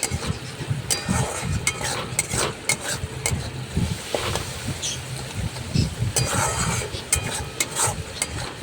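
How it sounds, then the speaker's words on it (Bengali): A spatula scrapes and stirs a white sesame mixture in a pan for soybean kofta curry. The rough, rhythmic scraping repeats close up over a soft sizzle, with no talking. "আমি ভালো করে নেড়ে চেড়ে নিচ্ছি একবার"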